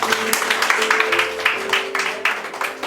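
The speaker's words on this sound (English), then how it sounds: "Round of applause for her." Scattered clapping from a small group, uneven and moderately loud, with a few sharper individual claps standing out.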